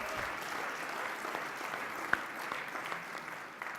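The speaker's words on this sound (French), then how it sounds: "Vous pouvez l'applaudir." An audience at the UDI political party's national council claps steadily, a sustained round of applause from a large hall crowd that tapers slightly toward the end.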